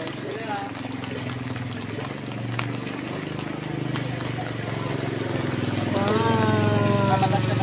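A motorcycle pushes through deep floodwater during a typhoon, its engine droning low and steady under splashing and rushing water, while voices talk over it throughout.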